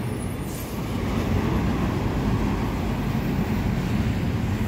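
A front-engine articulated city bus on urban route 210 rumbles close by, its engine a dense, steady roar mixed with broadband road noise, with no talking.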